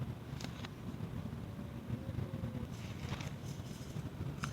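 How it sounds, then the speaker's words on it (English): Steady low rumble of traffic passing outdoors, a continuous broad wash with faint wind, no distinct single vehicle standing out. "It's just traffic going by"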